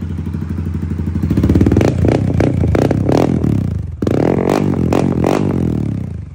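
A JVT 232cc motorcycle engine with a large version 3 elbow exhaust pipe runs loud and close, revving in bursts with rough popping pulses and a sharp drop near the middle before the roar returns.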